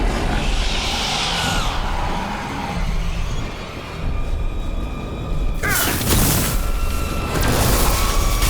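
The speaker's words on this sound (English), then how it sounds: "Exploding darkspawn?" Exploding darkspawn in Dragon Age: The Veilguard make a heavy boom burst partway through, over a dense, rumbling game soundscape with brief voice sounds.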